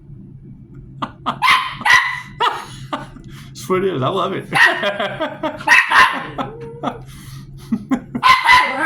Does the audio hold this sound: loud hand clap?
no